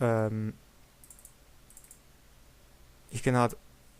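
A few soft, brief computer mouse clicks while building a card deck on The Game Crafter, faint and sparse between two short bursts of speech.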